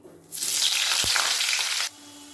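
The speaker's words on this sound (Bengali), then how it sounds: "তেল গরম হয়ে গেছে এরপর কেটে রাখা আলুগুলো দিয়ে দেবো" Cut potatoes drop into hot mustard oil in a kadai and burst into a loud, close, hissing sizzle that holds steady for over a second, then stops abruptly as the pan quietens.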